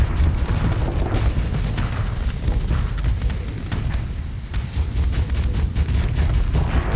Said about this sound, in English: Torpedoes out!